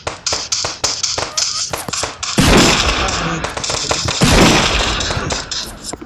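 Sniper rifle shots in the Los Angeles Crimes video game: a rapid run of sharp close gunshot cracks, followed by two heavier booming blasts with long noisy tails.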